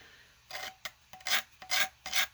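A card scraper rasps across a curved wooden surface in five or six short, dry strokes with brief pauses between them, close and fairly quiet with no talking.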